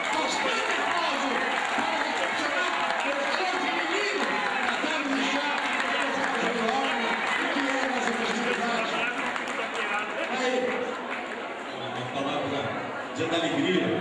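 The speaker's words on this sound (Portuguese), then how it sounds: "Bastante aplauso!" A crowd at a political tea gathering applauds steadily for several seconds, the clapping dense and continuous, with voices and cheering mixed in throughout.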